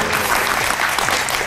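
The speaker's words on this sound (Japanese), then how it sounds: "丸さんに拍手。" An audience breaks into brisk, dense applause, a close, even wash of many hands clapping together that lasts a moment without any talking.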